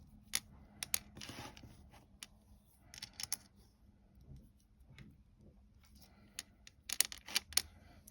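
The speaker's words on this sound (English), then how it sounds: "I have cut a lot of extra string, but you want more extra string just in case" Quiet, close snips of scissors cut extra string for a craft lizard keychain, with sharp clicks scattered irregularly over a hushed background and several quick cuts bunched near the end.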